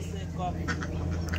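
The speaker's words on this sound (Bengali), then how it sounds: "ওগুলো তো দেশি না বেইজিং হাঁস মনে হয় তাই না" Pekin ducks quack in a few short nasal calls under and between people talking nearby, all within a second or so.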